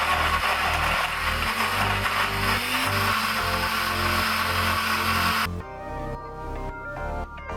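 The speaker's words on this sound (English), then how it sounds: "And then all we're gonna do is blend it up." A blender runs loud and steady, whirring through berries and almond milk, then the motor cuts off partway and a quieter hum with lingering rattles follows.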